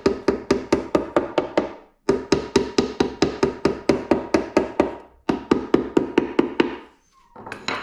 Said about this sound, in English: we like to use hammer.